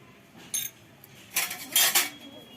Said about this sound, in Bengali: একটু নেড়ে দিলাম লাউটা সিদ্ধ হতে থাক